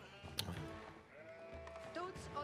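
Sheep bleat in the medieval strategy game Age of Empires IV, with drawn-out wavering cries rising over game ambience while someone talks.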